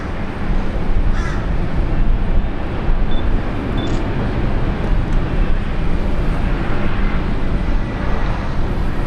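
A Korean Air airliner arriving at Brisbane airport gives a continuous rumbling roar near and loud, while crows caw intermittently nearby.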